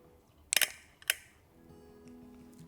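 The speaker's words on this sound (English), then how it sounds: "Personally, I don't really love that shutter sound." Two crisp, crunchy shutter releases from a Hasselblad X2D medium-format camera, about half a second apart, each a sharp double-edged mechanical click standing alone in a quiet room.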